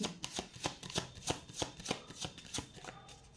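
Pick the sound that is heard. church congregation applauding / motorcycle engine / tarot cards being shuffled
tarot cards being shuffled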